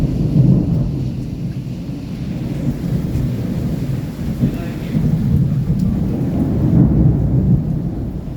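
Thunder rolls low and heavy through a downpour during a severe thunderstorm with lightning over Rajkot, the deep rumbles swelling and fading over a constant hiss of heavy rain.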